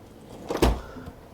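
A closet drawer slides open in an apartment with a brief rolling scrape and a soft thud, close by and alone against quiet room tone.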